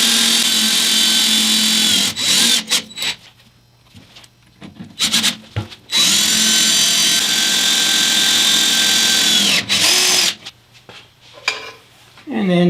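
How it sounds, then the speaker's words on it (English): A power drill whines steadily into cast iron in long bursts, stopping and restarting several times with brief clanks and pauses between runs. "try and drill a hole that's straight."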